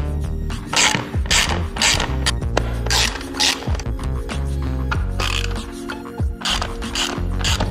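Ratchet wrench backing out Allen 5 mm screws holding a motorcycle air filter housing, a loud, close series of rapid clicking bursts with brief pauses and occasional metallic clunks between strokes.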